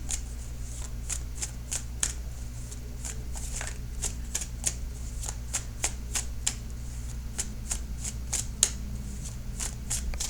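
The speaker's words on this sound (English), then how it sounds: "I'm going to cut the cards in just a few more seconds." Tarot cards being shuffled by hand in a quiet room, a long run of crisp, evenly spaced riffling snaps against a low steady hum, with no talking.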